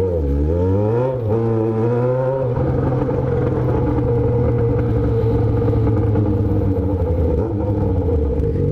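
Yamaha XJ6 motorcycle with an aftermarket exhaust, its engine close and loud, rising and falling in pitch through revs before settling into a steady, throaty idle-to-midrange drone.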